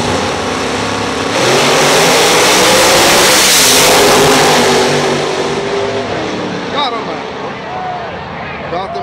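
Pro Mod drag race cars at an OBX drag strip roar past in a loud, sustained engine blast that swells and then fades, with crowd noise and an announcer talking over it.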